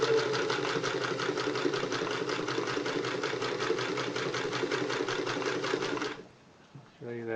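A Singer 328K sewing machine running a straight stitch, a loud rapid even clatter of the needle mechanism lasting about six seconds before stopping, followed by a few soft handling clicks.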